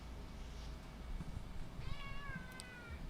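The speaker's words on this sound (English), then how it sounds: "you hear this cat?" A cat meows in a short, rising and falling cry near the end, over a low steady background rumble.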